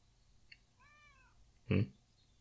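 Cats meow in a scene from the anime Chainsaw Man: a soft, faint meow first, then a single louder, close meow, with no talk over them.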